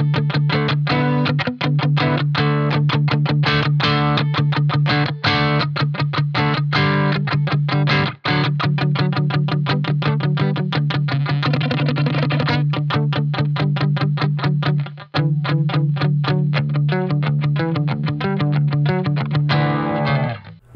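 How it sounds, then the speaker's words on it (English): Electric guitar driven through a Dophix Lussuria overdrive pedal made in Italy with the gain raised, dense sustained chords and riffs with short breaks, loud and close throughout. "Now let's increase the gain and distortion a little bit."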